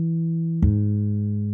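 Ample Sound virtual guitar plays a steady held note that abruptly changes to a new pitch with a sharp pick attack, no slide connecting the two, clean and alone.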